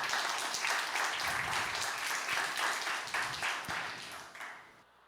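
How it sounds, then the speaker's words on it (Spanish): Congregation applauding in a church service, dense sustained clapping from a crowd that holds steady and then tapers off toward the end. "Démosle un aplauso al Señor."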